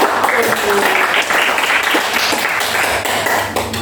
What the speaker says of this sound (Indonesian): Aplaus dulu dong, semangat guys.